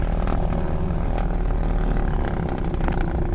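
A Beech 18 twin-engine propeller aircraft idles while holding at the runway, giving a steady, loud, droning engine rumble that continues for the whole stretch with no voices.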